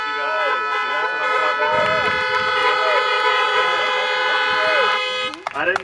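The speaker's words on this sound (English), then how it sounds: "So if you feel something and you feel good about it, honk the horn." Car horns honking in a sustained, loud overlapping chorus at a high school basketball championship ring ceremony, layered under a lively crowd and a voice speaking.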